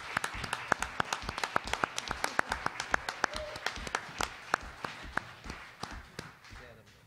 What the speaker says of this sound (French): j'aimerais ça qu'on donne une bonne main d'applaudissement